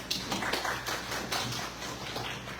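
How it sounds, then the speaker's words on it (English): Applause from a town hall audience in Fairmont, North Carolina, welcoming two speakers: a steady, dense wash of many hands clapping at moderate distance, lasting the whole moment without voices. "give them a round of applause"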